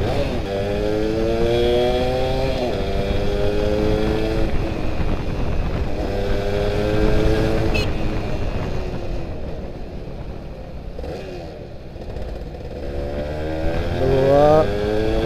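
A Yamaha F1ZR two-stroke motorcycle being ridden, its buzzy engine climbing through the gears with rising revs and shifts, loud and close, easing off midway before revving up again.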